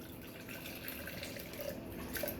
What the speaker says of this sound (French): je vais mettre un peu d'eau